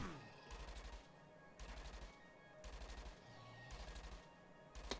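Automatic weapon fire in the video game Entropia Universe, repeated in short regular bursts of rapid shots about once a second, fairly quiet and steady with brief gaps between volleys.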